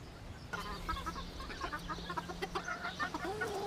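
Dutch crested hens with smooth, ordinary plumage cluck softly in a coop, a cluster of short, uneven calls over a low steady hum, fairly faint and close.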